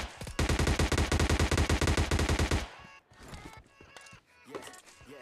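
Automatic gunfire in the video game PUBG Lite: a loud, rapid burst of evenly spaced shots lasting about two seconds, followed by fainter scattered in-game noises and distant shots.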